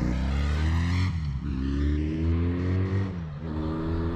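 A 1984-85 motorcycle engine revs up and down, its tone climbing and falling in a few rising sweeps, loud and close.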